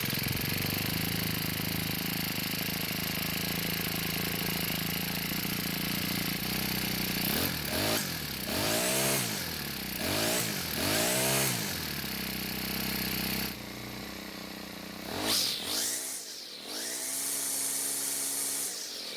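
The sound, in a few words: Cub Cadet 4-cycle string trimmer engine starting and running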